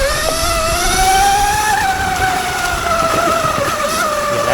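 A Surron electric dirt bike being ridden, its motor whining steadily at high revs with a rising and falling tone as it hits the RPM cut, loud and close with road and wind noise.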